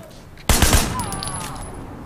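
A single loud burst of gunfire from the open-world action game Sleeping Dogs rings out sharply, then trails off as a decaying echo over faint background game sounds.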